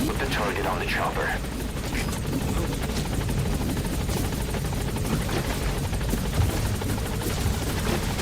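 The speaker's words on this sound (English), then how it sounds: "Put the target on the chopper." Helicopter extraction in Metal Gear Solid V: The Phantom Pain, a steady rotor thrum with engine whine running throughout, with game voices and radio chatter over it.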